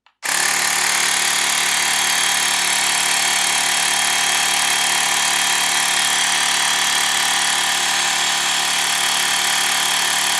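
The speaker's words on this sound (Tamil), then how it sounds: "ஜஸ்ட் சென்டர் பட்டன் ப்ரெஸ் பண்ணிங்கனாவே உங்களுக்கு இந்த ஏர் கம்ப்ரஸர் ஸ்டார்ட் ஆக ஆரம்பிச்சிடும்." A Mi portable electric air compressor switches on and runs at a loud, steady, buzzing drone. It is close and uninterrupted for the whole stretch, with no talking.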